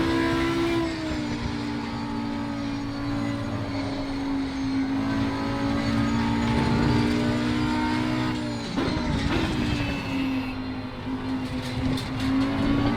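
Audi R8 EVO GT3 race car engine in Assetto Corsa Competizione at Kyalami Grand Prix, a loud sustained high-revving drone that holds steady, dips briefly as it shifts, then climbs again.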